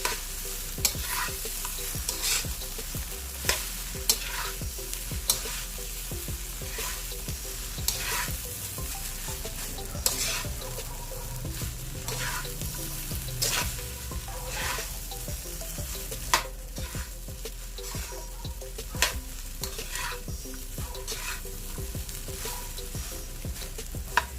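Fried rice with vegetables stir-fried in a pan, with a steady broad sizzle under repeated sharp scrapes and clacks of a utensil against the pan, close and fairly loud, with no talking.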